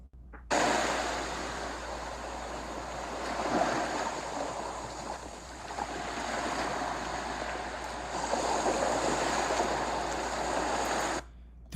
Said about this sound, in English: The waves grow louder.